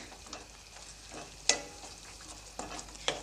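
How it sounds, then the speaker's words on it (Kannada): Mushroom gravy cooking in a pan gives faint, soft stirring and scraping sounds, with a few sharper metallic clinks from a spoon against the pan. "ಈಗ ಇದನ್ನ ಚೆನ್ನಾಗಿ ಮಿಕ್ಸ್ ಮಾಡ್ತಾ ಇದ್ದೀನಿ"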